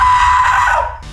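A person screams loudly and continuously during a shouting contest to see who can yell loudest, a strong sustained cry that fades near the end before a brief return.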